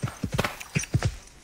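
Hoofbeats of a Thoroughbred cantering in a bouncy three-beat rhythm, dull thuds close by with faint tack and breath sounds.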